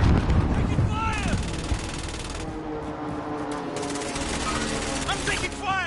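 Rapid automatic gunfire from a firefight in Call of Duty Warzone, with loud dense bursts and overlapping shots sustained through the clip, mixed with other battle noise.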